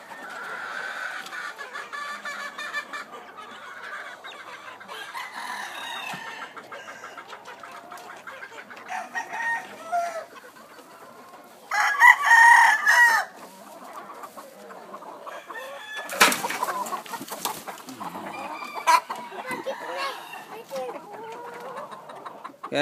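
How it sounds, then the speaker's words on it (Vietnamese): Peruvian hybrid gamefowl roosters cluck and crow on a farm, with several loud bursts standing out over quieter fowl chatter and someone talking at intervals. "Đây là gà cú Peru lai."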